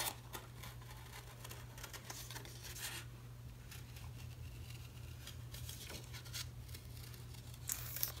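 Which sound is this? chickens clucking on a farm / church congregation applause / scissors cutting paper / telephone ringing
scissors cutting paper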